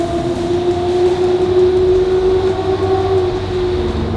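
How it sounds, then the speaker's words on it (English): A Lamborghini Murcielago's engine drones steadily through a long tunnel near the Canadian border, a loud, sustained tonal roar with a rumbling low end that holds evenly throughout with no talk. "All I can hear in the tunnel is Damon's Murcielago behind me"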